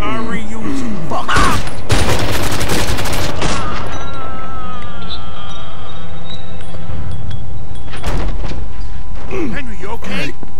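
Loud bursts of gunfire from the Mafia 2 video game erupt in rapid volleys with booming impacts, mixed with mechanical clatter and game sound, while excited voices shout and talk over the shooting.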